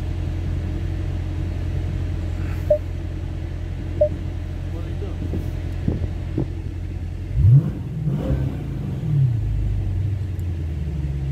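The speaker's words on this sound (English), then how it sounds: "I'll just do one quick rev and the engine's warmed up too" A deep, throaty engine of a widebody Dodge Challenger muscle car, warmed up, idles close by with a steady rumble, then one quick rev surges and drops back to idle.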